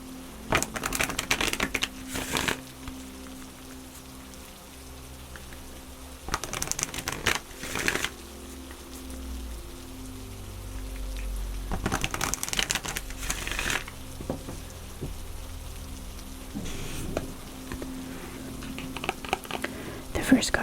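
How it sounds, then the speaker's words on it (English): Oracle cards are shuffled and pulled in a soft-spoken setting, giving bursts of crisp riffling, flicking and papery rustling up close, separated by quieter stretches with soft speech. "Next, we're going to pull some oracle cards."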